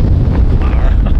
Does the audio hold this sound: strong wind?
yes